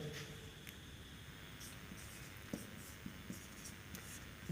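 A pen or chalk moves across a surface as notes on the electric field of a point charge are written during a physics lesson, soft repeated scratching strokes with a few small taps, close and quiet over a faint hum.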